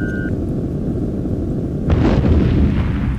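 A missile strikes an aircraft in the EF2000 Eurofighter Typhoon flight game, a sudden distant boom rising out of a steady low engine rumble and trailing off into a rolling roar.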